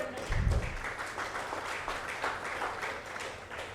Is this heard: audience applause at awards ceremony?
yes